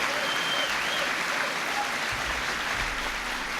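Steady, continuous applause from a large audience at a 1996 Bill Clinton speech in Shoreline, Washington, a dense wash of clapping heard from within the hall.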